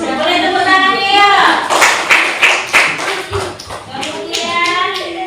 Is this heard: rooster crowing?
no